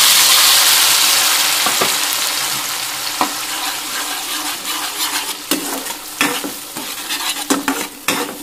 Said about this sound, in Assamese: তেল গৰম হৈ গ'ল আৰু ইয়াতে এতিয়া মই দি দিম বনাই লোৱা পেষ্ট খিনি